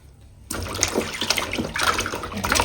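Pieces of live koi fish being rinsed by hand in a bowl of water, splashing and sloshing steadily and close up after a brief quiet start, with no talk.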